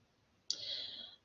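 A single computer mouse click, faint and close, one short crisp tick with a brief bright tail against quiet room tone.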